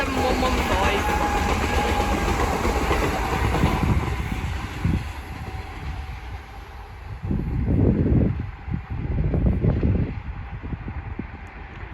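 A pair of Class 387 electric trains pass at Hitchin on the East Coast Main Line, a steady rolling rumble with rhythmic wheel clatter and some wind buffeting on the microphone, heard close by outdoors.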